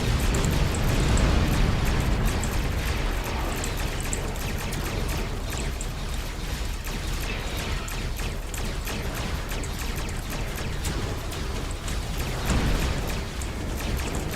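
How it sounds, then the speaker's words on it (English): Starship torpedo explosions in Star Trek Online, a continuous loud roar of blasts and crackling impacts that rumbles on without pause and swells slightly at the start and near the end. "Torpedoes out."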